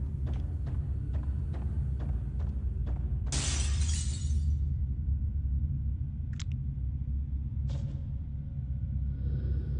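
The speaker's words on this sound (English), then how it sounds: "I did hear some breaking glass" Glass shatters loudly in a burst partway through, set against a steady low rumble and a series of sharp ticking steps or knocks inside a dark building in the Fatal Frame horror game.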